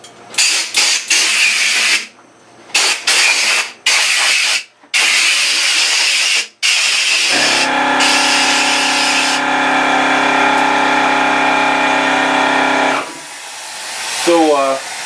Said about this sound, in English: we'll blow the dust off this first.